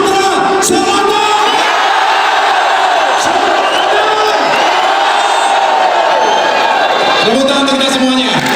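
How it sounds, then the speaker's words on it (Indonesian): A large crowd at a Democratic Party rally and regional inauguration in South Sumatra shouts and cheers loudly, a sustained roar of voices with whoops rising and falling throughout. "sekarang saya minta teriak sekeras-kerasnya"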